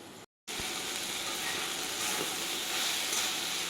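Banana blossom sautéing in a pan with fried shrimp and red lentils, a steady close sizzle and hiss that runs on after a brief cut at the start.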